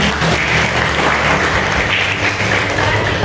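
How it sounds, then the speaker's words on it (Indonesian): Steady, dense applause from a classroom of students fills the clip at close range, holding at an even loudness throughout with no pauses. "Tepuk tangan buat"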